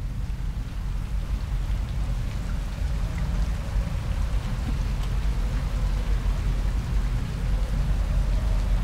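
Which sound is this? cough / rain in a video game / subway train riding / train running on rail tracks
rain in a video game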